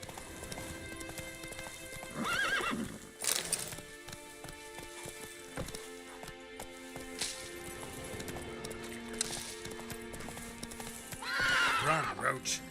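Horse galloping in The Witcher 3, with steady clip-clop hoofbeats throughout, several loud neighs and whinnies, and game sound effects layered over them.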